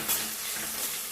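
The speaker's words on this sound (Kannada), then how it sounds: "ಈರುಳ್ಳಿನ ಸ್ವಲ್ಪ ಎಣ್ಣೆಯಲ್ಲಿ ಚೆನ್ನಾಗಿ ಫ್ರೈ ಮಾಡಬೇಕು." Onions frying in a little oil with bay leaf and cinnamon for a spicy egg green gravy, a steady soft sizzle that stays even and fairly quiet through the short moment, with no voices.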